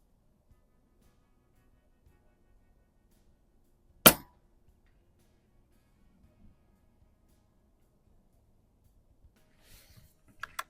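A pellet gun fires once at a target plate 117 yards away, giving a single sharp crack in near silence, followed by a few faint clicks near the end.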